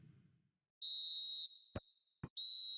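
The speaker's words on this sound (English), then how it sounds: "Referee's had a look, and he's blown his whistle for half-time." A referee's whistle in the eFootball video game signals half-time: one long shrill blast, two short sharp peeps, then another sustained blast, clear and loud against near silence.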